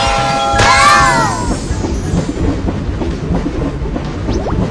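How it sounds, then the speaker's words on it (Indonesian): A cartoon toy train set onto rails at a station built by toy trucks: a brief bright squeal and clatter near the start, then a steady rolling rumble and clickety noise that continues for several seconds. "Kita bisa mengangkat kereta ke atas rel."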